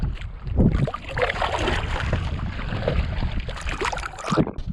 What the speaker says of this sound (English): we're gonna continue our paddle into the wind for a little while longer